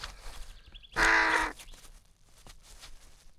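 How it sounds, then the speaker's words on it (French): One loud, close crow caw stands out clearly over quiet outdoor background noise, followed by faint scattered sounds. "Le petit corbeau, Corneille."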